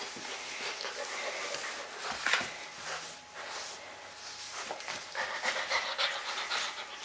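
A puppy pants rapidly and steadily close by, quick breathy huffs continuing without pause and without any talking.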